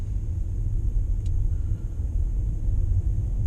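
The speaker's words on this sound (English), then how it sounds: "Right now, I'm driving." Steady low rumble of a car driving through the streets of a Chinese county town, heard from inside the cabin, a constant engine and road drone with no talking.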